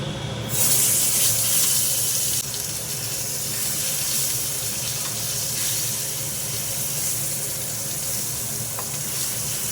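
Koi fish sizzling as it drops into a generous amount of hot oil in a wok, a loud, steady frying hiss that flares up at first and then holds constant, with no talking.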